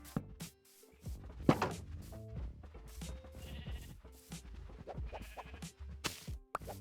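Sheep bleating in a blocky sandbox building game, several short bleats scattered among clicks and thunks of placing and breaking blocks, moderately close with no talk.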